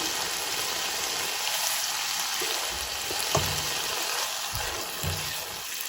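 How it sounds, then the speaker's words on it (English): Tomatoes frying on medium heat give a steady, moderate sizzle throughout, with a few soft low thumps of stirring. "Fry on medium heat till the tomatoes are nice and mashy."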